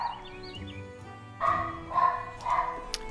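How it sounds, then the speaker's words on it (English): Dogs bark and yip upstairs indoors in a few short, muffled bursts, heard from a distance through the house. "You can hear the dogs barking upstairs."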